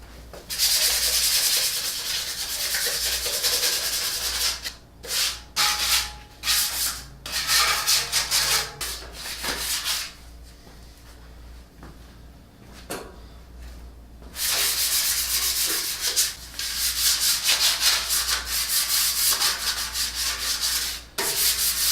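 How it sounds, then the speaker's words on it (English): A 320-grit sanding disc rasps across a steel Jeep YJ frame in long, steady passes, broken by short pauses and stop-start strokes, loud and close throughout. "A 320 grit sanding disc right here, and I'm just going to go across the frame"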